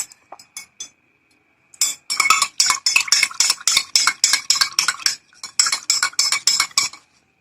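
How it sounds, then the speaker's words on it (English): A spoon stirs warm milk in a cup with quick, rhythmic clinks against the sides. A few sparse taps come first, then a long run of steady stirring and a brief pause, with no voices. "And then stir"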